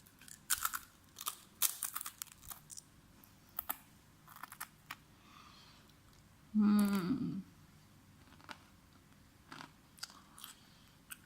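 Crunchy chili Doritos chips are bitten and chewed close up, with sharp crisp crunches scattered throughout and one louder, longer burst of crunching in the middle.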